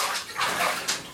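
A cat being bathed in shallow bath water: a brief run of sloshing and splashing, close and fairly loud, with a couple of sharper splashes.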